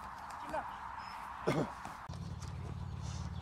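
A horse's hooves clip-clop during carriage-driving training, a few scattered hoof strikes heard at moderate distance under outdoor ambience, followed by a steady low rumble.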